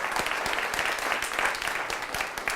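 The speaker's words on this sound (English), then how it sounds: "So let's give it a warm applause for all of our funders." Warm crowd applause at a community event at a bakery, dense and steady clapping that stays even throughout with no talk over it.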